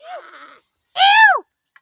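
A goat bleats twice, close and loud: a short wavering call, then after a brief pause a longer, strained nasal bleat that slides downward at the end.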